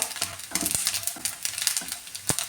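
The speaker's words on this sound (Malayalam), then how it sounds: "ഇനി തേങ്ങ ഈ നെയ്യിലൊന്ന് വറുത്ത് ചേർത്ത് കൊടുക്കാമേ നന്നായിട്ടൊന്ന് മൂപ്പിച്ചെടുക്കാം" Grated coconut roasts in ghee in a pan, a close crackling sizzle with quick rhythmic scraping strokes of stirring across the whole short stretch.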